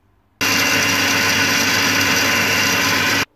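A Karaca Mastermaid Power 2000W food processor grinding coffee beans, a loud steady motor whir that starts abruptly, runs evenly for about three seconds, then cuts off.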